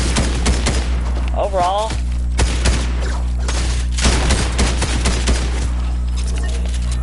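Shotgun blasts ring out in a video game, a run of sharp repeated shots mixed with other gunfire, while someone talks over the action.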